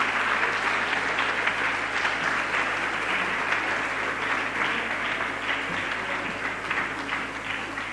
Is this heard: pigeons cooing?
no